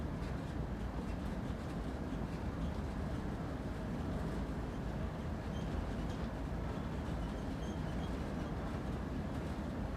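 A steady, dense rumble of a BNSF ES44C4 freight train slowing down in Train Sim World 3, broadband and continuous with no distinct events, heard alone without talk.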